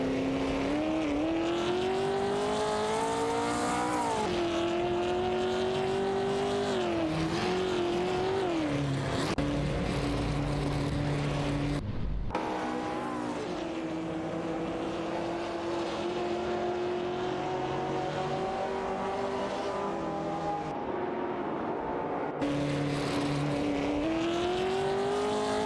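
Several race cars in an AI-driven racing video game roar continuously at high revs, engine pitch rising and falling through gear changes, with a brief cut around the middle and no talk.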